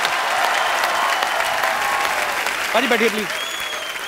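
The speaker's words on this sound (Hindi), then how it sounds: "एक बार यू बाजी के लिए जोरदार ताली हो जाए।" A studio audience claps at a comedy talk show taping, loud sustained applause filling the room while a host speaks briefly over it near the end.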